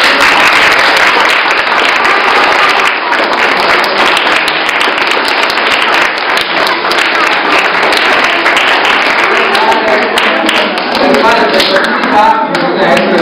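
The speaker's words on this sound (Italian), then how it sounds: "credo che tutti quanti dovremmo fare un applauso" Loud, dense applause from an audience honouring Croce Verde volunteers at a school defibrillator handover in Borgaro Torinese, sustained clapping filling the whole stretch with some voices mixed in.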